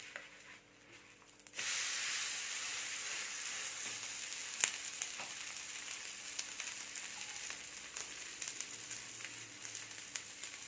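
Ragi flour and drumstick-leaf adai sizzles on a hot pan after a sudden flip, a steady close frying hiss continuing for several seconds with occasional faint clicks and crackles.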